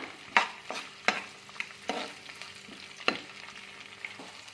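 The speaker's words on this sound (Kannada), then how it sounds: "ಅದಕ್ಕೇ ನಾವು ಚಿಕ್ಕದಾಗಿ ಹೆಚ್ಚಿಟ್ಟಿರ್ಕೊಂತ ಈರುಳ್ಳಿ ಹಾಕ್ಕೊಳ್ಳೋಣ." Finely chopped onions fry in a pan for palak paneer, a soft sizzle punctuated by a handful of sharp scraping stirs and taps at irregular intervals, fairly quiet and close, with no talking.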